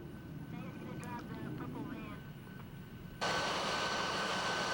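F-22 Raptor jet taxiing back to its parking spot after a first flight, a steady loud engine roar; faint voices sound early on before the jet noise jumps sharply louder near the end.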